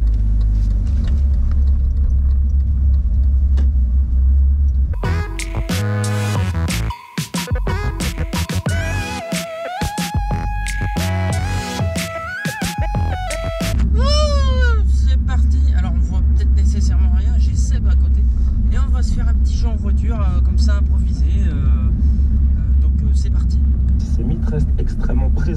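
A car drives along a road with a steady low engine and tyre rumble throughout, partly overlaid by music in the middle stretch and with voices heard inside the vehicle.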